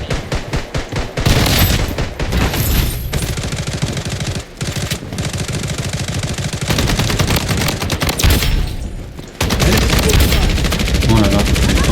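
An RPK machine gun in the shooter game Blood Strike fires in long, loud, rapid bursts with only brief pauses between them, with some speech mixed in.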